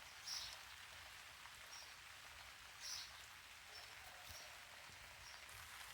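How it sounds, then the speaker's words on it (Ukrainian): Soft, steady rainfall patters quietly on leaves and surfaces of a garden flower bed, with a few faint distant bird chirps over the gentle hiss. "Послухайте, як звучить дощ."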